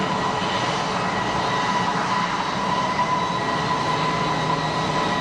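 A jet airliner landing with its bucket-type thrust reversers deployed at Geneva Airport, a steady, loud, broadband roar that holds evenly throughout with no pauses and no voices.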